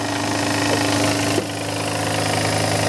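Kromrey generator spinning at about 1580 RPM with its AC output unshorted, a steady mechanical hum and rattle with a constant engine-like drone and a small knock midway, close and continuous.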